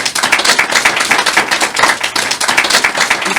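Audience at a Hindi stand-up comedy show clapping, a close burst of brisk, uneven hand claps that continues steadily for a few seconds with no speech over it.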